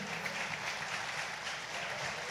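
Steady applause from a church congregation fills the whole stretch, dense and even with no voices standing out.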